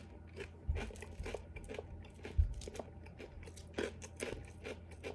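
Close, crisp crunching as someone chews dry Lucky Charms-style cereal of rice puffs and marshmallows, with steady repeated bites and a few louder crunches, no talking.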